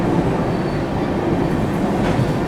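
A Rajdhani Express train rolls through Mathura junction station with a loud, steady rumble and clatter of wheels and carriages that continues unbroken throughout.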